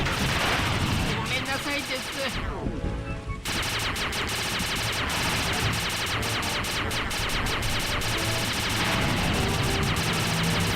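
Sustained gunfire aimed at bombers threatening a blimp in the Sly 2 video game, loud and continuous with rapid overlapping shots and explosions, briefly easing before resuming.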